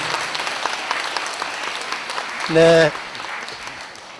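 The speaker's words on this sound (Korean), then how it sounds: "크게 박수로 보내주십시오." Applause for a Catholic priest at an Advent lecture in a parish church, a steady crowd clapping throughout with a brief sung or spoken tone partway through and a voice speaking briefly.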